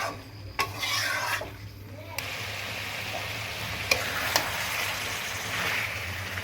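Spiced chicken meat is stirred and fried in a pan for rooster pilaf, with steady sizzling and scraping strokes and a few sharp clinks of the utensil against the pot, close and continuous over a low background hum.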